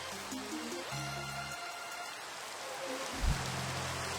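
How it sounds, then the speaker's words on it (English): Steady rain falls in a Minecraft savannah biome, a dense even hiss throughout with soft game music tones playing beneath it and one brief low thump. "And now it's raining again."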